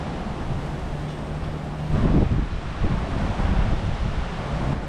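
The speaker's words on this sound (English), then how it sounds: "It's super windy out right now, so if the sound is a little muffled" Strong wind buffets the microphone throughout on a clifftop at Ocean Park above a Los Angeles beach, a dense low roar that grows heavier and gustier partway through, with no other clear sounds.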